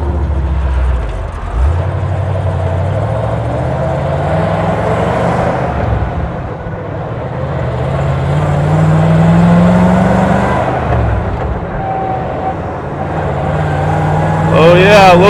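A 1951 Willys M38 flat fender with a Studebaker 289 V8 swap runs cold, its engine droning and rising in revs as the jeep accelerates, loud and close, with wind and road noise and some talk over it.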